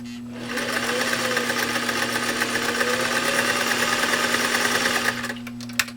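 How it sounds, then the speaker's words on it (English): Restored 1963 Singer 503a sewing machine driving through heavy material, such as leather, in one steady, loud, close run with a strong motor hum that stops abruptly near the end. "Let me just make sure I lock that clutch again, and here we go."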